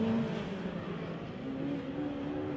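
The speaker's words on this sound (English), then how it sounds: "And Nick Donaldson has his foot on the throat of the midget car feature" Midget race cars racing at night on Ruapuna Speedway, a continuous loud droning engine roar with steady pitch and no clear pass-by swell, heard from a distance without voices.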